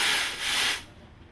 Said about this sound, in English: You have to make sure that you steam the milk. You first hiss the sound.